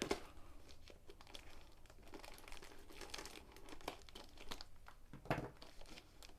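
Crinkling and tearing of packaging as a diamond painting box is opened, close and quiet, with irregular crackles and a sharper rip toward the end.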